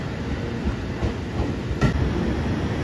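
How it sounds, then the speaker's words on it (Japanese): A JR Shikoku 5000 and 223 series Rapid Marine Liner suburban electric train rumbles through Takamatsu Station, a steady loud rolling drone with faint wheel clatter. "高松駅8時6分着、快速マリンライナー高松駅5000系223系近郊型電車です。"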